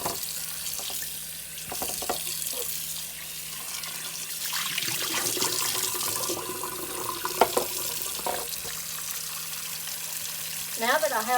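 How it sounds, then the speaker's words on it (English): Tap water runs and splashes steadily as pork chops are washed under it in a kitchen sink, with handling clunks and splashes throughout and a brief squeaky sound near the end. "And now we're going to go wash them."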